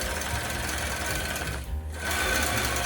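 A longarm quilting machine stitches in the ditch on a custom-quilted Dream Big panel quilt, with a steady, fast mechanical hum. It drops out briefly and then resumes at the same close, even pace.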